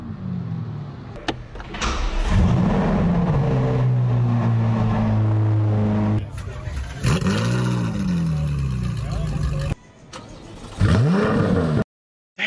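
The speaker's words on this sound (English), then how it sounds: "the C8 sounds beefy" Chevrolet Corvette C8 V8 engine revving hard, several rising and falling sweeps close by with cuts between them, no talk over it.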